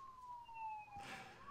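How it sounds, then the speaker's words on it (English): A police siren passing outside, a faint, distant wailing tone that slowly glides downward in pitch, with a soft muffled thump partway through. "No, you hear that siren?"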